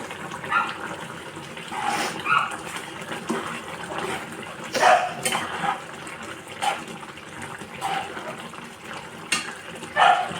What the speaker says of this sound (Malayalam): നല്ലോണം തിളക്കുന്നുണ്ട് ഇളക്കി വെക്കണം അടിയിലൊന്നും പിടിക്കാൻ പാടില്ല